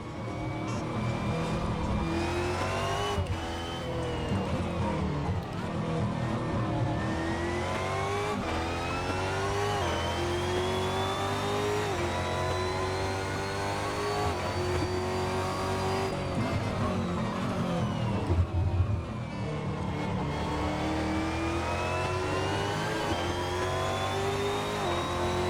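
A loud racing car in Assetto Corsa, fitted with a sequential gearbox, revs hard and climbs through repeated gear changes, its engine pitch rising and dropping in waves while running continuously, with a brief tire squeal and no talking.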